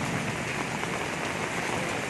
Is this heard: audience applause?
no